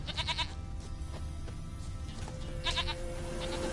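A goat in a PS4 video game bleats in short, close bursts, once at the start and again near the end, over a quiet ambient background.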